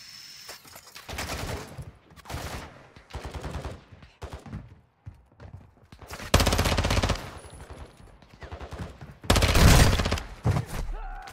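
Rapid automatic gunfire crackles in Call of Duty DMZ in two heavy, close bursts, with scattered lighter shots and pops between them.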